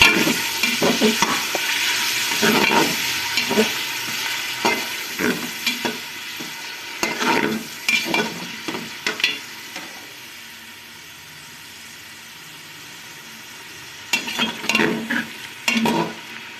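Half a kilo of mutton sizzles and fries in hot oil, with intermittent stirring scrapes and clatters of a utensil in the pan, fairly close and steady.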